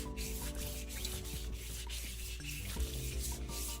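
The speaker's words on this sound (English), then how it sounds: "now I can use my brayer to smush down" A plastic brayer rolls over a sheet of paper pressed onto a gel plate, giving a steady, close rubbing and sanding texture that holds evenly throughout.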